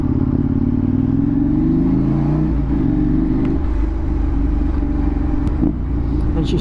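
A KTM 790 Duke motorcycle with an SC Project S1 exhaust drones loudly on a dyno, its engine note rising and falling in a sustained rumble, with a few faint pops near the end.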